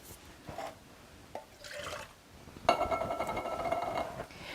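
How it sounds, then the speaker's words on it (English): Water poured into empty food cans to rinse them while making stuffed pepper soup, quiet splashes and trickles in short bursts, then a louder running pour toward the end. "I'm going to just add a little water to our cans here and just rinse them out"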